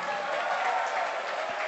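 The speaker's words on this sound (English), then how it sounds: "A round of applause for Kasua Youth Choir." Audience applause for the Kasua Youth Choir at an awards presentation: a steady, even wash of many hands clapping that holds at one level for a couple of seconds.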